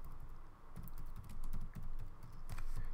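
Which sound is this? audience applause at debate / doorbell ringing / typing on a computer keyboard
typing on a computer keyboard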